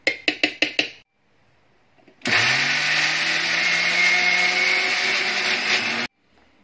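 A few quick knocks, then a kitchen mixer grinder whirs loudly and steadily for about four seconds while grinding coconut chutney before cutting off abruptly.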